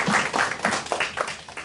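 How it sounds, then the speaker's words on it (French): Brief, moderately loud applause from a church congregation, with irregular clapping carrying through the whole short span and no clear voice over it. "Donc on peut les applaudir et les remercier."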